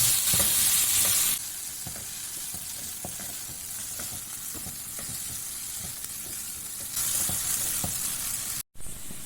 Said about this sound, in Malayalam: ഇതൊക്കെ പാടെ കൂടി നല്ലോണം ഒന്ന് വഴറ്റണം.